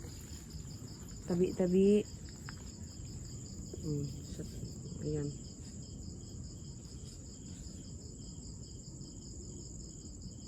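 Insects trill steadily at a high pitch throughout, a constant nighttime drone in a cemetery, while a person speaks briefly and quietly a few times near the start.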